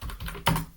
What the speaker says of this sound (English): got a new keyboard, so I'm getting used to typing on it